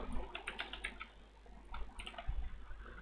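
Keys clatter on a computer keyboard in quick, soft bursts of typing with brief pauses, faint and close over a low steady hum, with no voices.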